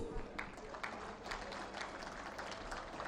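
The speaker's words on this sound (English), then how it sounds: "Can I have a round of applause," Audience applause at a defence conclave: a dense wash of clapping from a crowd, faint and distant, continuing steadily throughout.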